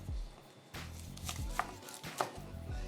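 A knife cutting open a Philly cheesesteak egg roll, a few crisp crunching slices through the fried wrapper with soft taps on the board, quiet and close.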